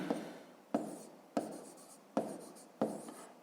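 Handwriting during a 5th-grade math exercise, with about five distinct scratchy strokes at a fairly even pace, close and clear with nothing else in the background.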